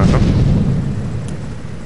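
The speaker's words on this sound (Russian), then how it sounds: "Получите гранату." A grenade explodes in GTA 3 with a loud, low rumbling boom that fills the whole moment, then slowly fades over the following second.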